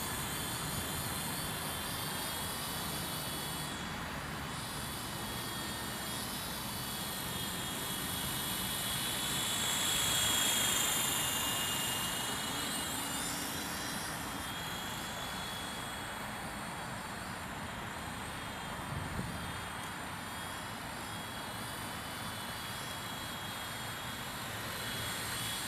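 A single-blade Sky Dancer toy helicopter flies in the open, giving a steady, thin whirring drone that swells slightly midway and holds at moderate level throughout, with no voices.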